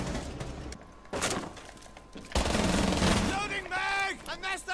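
Gunfire rattles in a Rainbow Six Siege match: several sharp shots and bursts, loud and close, with a longer sustained volley in the middle, and a voice talks over the final stretch.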